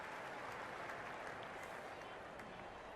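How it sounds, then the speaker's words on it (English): Spectators in the Cricket 26 video game on PS5 cheering and clapping after a shot, a dense continuous roar of crowd applause heard faintly throughout. "The spectators are absolutely buzzing right now."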